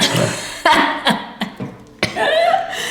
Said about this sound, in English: I'm already coughing because of it